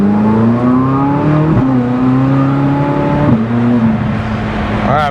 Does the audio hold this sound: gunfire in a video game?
no